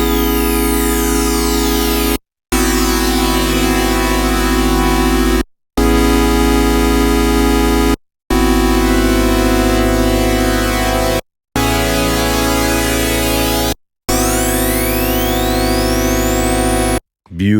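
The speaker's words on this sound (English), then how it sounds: "change Oscillator 1 over to Pulse. And let's take a listen to see what that sounds like with the sync and cross modulation" OB-Xd 3 software synthesizer playing a pulse-wave oscillator with sync and cross modulation: loud, bright, buzzy sustained tones in several separate passages, with sweeping harmonics rising and falling, and no talking.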